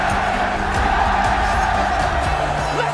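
A large esports arena crowd at IEM Katowice keeps up a dense, continuous roar of cheering and chatter, loud and unbroken throughout.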